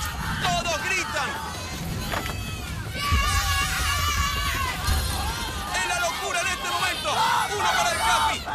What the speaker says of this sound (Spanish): Todos gritan.